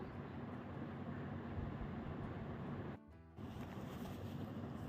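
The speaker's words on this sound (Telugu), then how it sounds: "ఇలా గోంగూర అంతా ఏగుతూ ఉండాలి బాగా ఏగాలి" Gongura leaves frying in a pan make a steady, dense hiss that drops out briefly partway through, then carries on. No voices.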